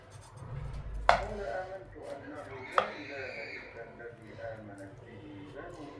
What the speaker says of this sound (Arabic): عاوزه احاول اقطع حته متماسكه